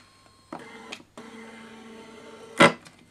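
Motor of a self-built 3D printer kit whirs with a steady mechanical hum after a couple of brief clicks, then gives a louder buzzing burst near the end.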